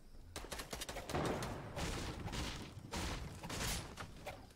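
Rapid sustained bursts of minigun fire in a Fortnite match, several long rattling volleys in quick succession at moderate distance, with no voices over them.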